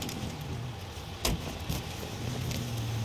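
A car pulling over in the Mafia 3 video game, with steady engine and road rumble, one brief thump partway through, and the hum settling lower toward the end.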